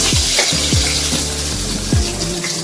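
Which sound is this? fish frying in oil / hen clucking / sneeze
fish frying in oil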